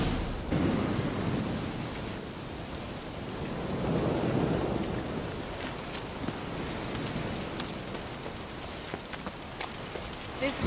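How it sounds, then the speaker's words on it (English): Steady rain falls in The Witcher 3: Wild Hunt, a dense hiss of drops on surfaces with low rolling thunder swelling in the background, no voices present. "Looks like rain."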